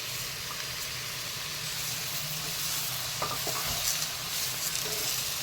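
Chopped tomato sizzles and fries in a pan for mushroom roast, a steady broad hiss with a few scraping stirs and light clicks of a spoon partway through.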